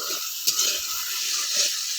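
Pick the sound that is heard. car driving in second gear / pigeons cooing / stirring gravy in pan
stirring gravy in pan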